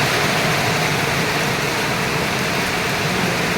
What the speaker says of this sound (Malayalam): നല്ല മഴയുണ്ട് ഇവിടെ.